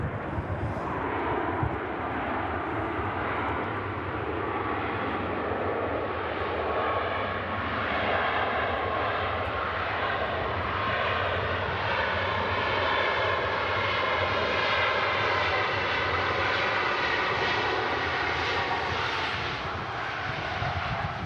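A Ryanair airliner arrives at Manchester Airport in gusty wind, its engines giving a loud, continuous roar with a steady whine that holds throughout without any voices.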